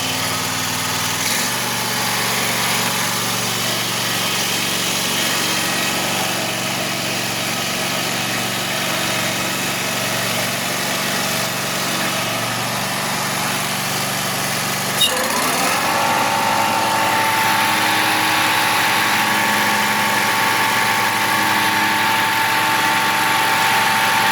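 A Wright Stander ZK stand-on mower engine idles steadily and close, a constant mechanical hum with a slight shift in pitch and tone partway through, without voices.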